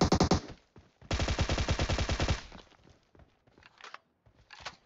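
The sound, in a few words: gunfire in the video game PUBG Mobile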